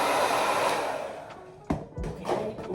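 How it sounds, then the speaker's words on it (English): A blow dryer drying hair glue on a hairpiece: a steady, loud rushing whoosh that eases off and then gives a few sharp bumps of airflow as it moves. "And then I blow dry it because YouTube told me I could put a blow dryer on"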